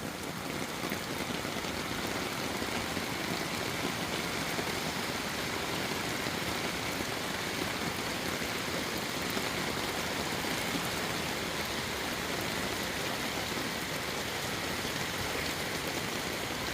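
Heavy rain pours steadily during Typhoon Carina in Cainta's Greenpark Village, a dense, continuous roar of downpour with no voices over it.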